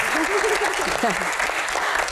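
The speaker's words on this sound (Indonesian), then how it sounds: "tepuk tangan dulu semangatnya dong" Steady crowd applause from a studio audience at an Indonesian Q&A show with the MPR chairman, continuous clapping with a voice talking over it.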